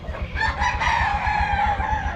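Chickens in a poultry farm shed cluck and crow continuously, a dense close-up chorus of fowl with a rooster's crow rising over the steady clucking.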